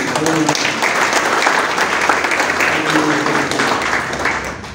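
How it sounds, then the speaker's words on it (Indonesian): Congregation applauding at a Sunday worship service at a theological college, a dense steady wash of many hands clapping close and loud throughout, with faint voices mixed underneath. "Mari kita tepuk tangan dulu"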